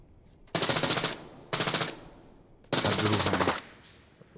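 Three loud bursts of rapid automatic gunfire in the video game Arena Breakout Infinite, each lasting under a second, separated by short pauses in an otherwise quiet scene.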